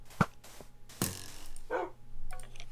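Short barks and yips from a Minecraft dog come as a few separate bursts over soft game ambience, with no talk.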